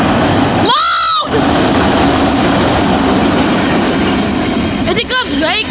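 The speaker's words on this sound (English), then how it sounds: "That's a big fat train." A long, heavy freight train rolls past close by, its steady loud rumble and clatter continuing throughout, with brief high wheel squeals near the start and again near the end.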